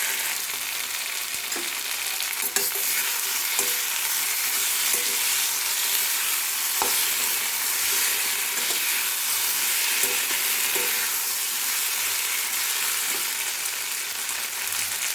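Spice paste for a Bengali potato, pointed gourd and fish-head curry sizzles steadily in a pan, with intermittent scraping taps of stirring throughout, close and fairly loud, no talking.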